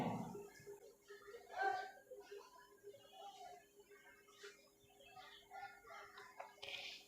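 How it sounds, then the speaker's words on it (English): A hen clucks in a series of short, bright calls set against a children's alphabet song, with a voice speaking alongside and the fowl cries scattered through the clip. "H for hen."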